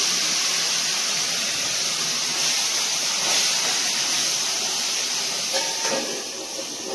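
A large rohu fish head frying in hot oil in a covered pan, a loud, continuous close hiss of spattering fat that holds steady and eases slightly at the end, with no talking.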